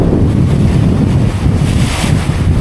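Strong wind buffets the microphone on open sea while fishing from a small boat, a loud continuous rushing roar with waves and water sloshing against the hull, no voices.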